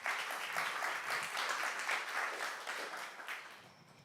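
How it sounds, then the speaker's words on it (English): Audience at a startup pitch event gives a round of clapping, fairly quiet and distant, a busy even patter that gradually fades toward the end. "So give them a round of applause."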